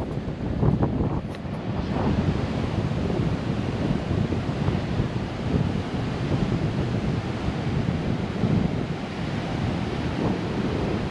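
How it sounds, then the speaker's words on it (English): Strong wind and surf at a Gulf beach in Orange Beach, Alabama, on a very windy day: a steady, loud roar of wind buffeting the microphone over continuous crashing waves, with no voices. "Very windy beach day."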